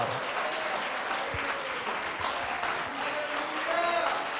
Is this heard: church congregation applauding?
yes